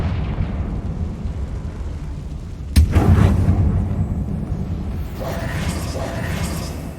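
A Confringo blasting spell in Hogwarts Legacy detonates inside an old closed mine, one sudden loud explosion midway that rumbles and slowly fades over a low ambient drone.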